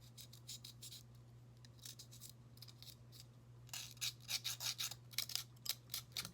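A styrofoam cup sculpture shaped into a crown has its outside rubbed clean, giving soft scratchy strokes over a steady low hum, growing into faster, louder rasping toward the end.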